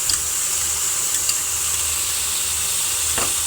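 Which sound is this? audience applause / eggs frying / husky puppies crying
eggs frying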